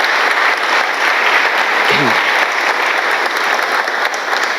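An audience at a book launch applauds a restoration team with steady, dense clapping that carries on throughout, loud and full, with one faint low voice briefly audible.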